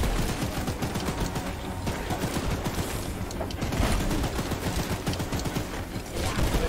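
Dense, continuous gunfire in the video game Choo-Choo Charles, a loud rapid rattle of shots running through the whole stretch with no pauses and no talk.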